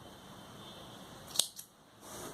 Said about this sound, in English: Do chain 1 and snip off this yarn.